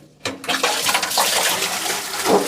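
Water rushes into a boat's live bait tank after the bung is pulled, on a Fin Chaser 600CCA barramundi fishing boat. A sudden start is followed by a steady, close gurgling inflow that keeps going, with no talk.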